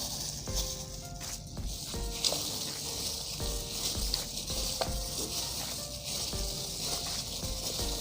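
Raw chicken thighs are mixed by hand with soy sauce, oyster sauce and sugar, giving soft, wet squelching and sticky patter that continues quietly and close, with faint tones in the background.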